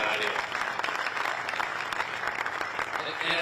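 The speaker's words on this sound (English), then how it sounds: "I'll give you a round of applause." Audience applause at a public ceremony unveiling the 2027 Final Four logo in Detroit, a steady, dense wash of many hands clapping that holds at an even level throughout.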